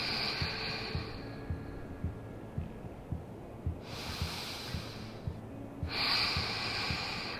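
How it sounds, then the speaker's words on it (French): Slow, deep breathing during a floor yoga flow for the back, with a long steady exhale, a loud airy inhale and another breath near the end, close and clear over a soft rhythmic background pulse. "On respire profondément ici."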